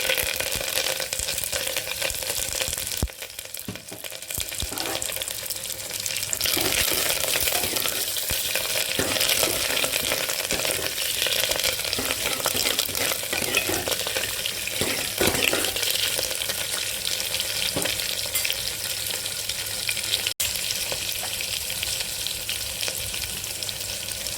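Onions, green chilies and curry leaves fry in hot oil in a pan, giving a steady loud sizzle that lasts the whole stretch. Scraping and stirring interrupt it now and then.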